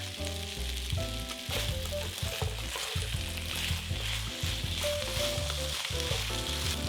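Onion and green beans fry in a pan, a continuous sizzle heard alongside layered steady tones and a few brief clicks, fairly quiet overall.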